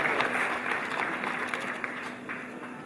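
Applause at a college graduation ceremony, a crowd clapping steadily as an award is received, dense and continuous at moderate distance, fading slightly toward the end.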